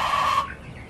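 Meat bird chicks cluck in a short, loud, close burst that cuts off after a moment, leaving quieter background noise.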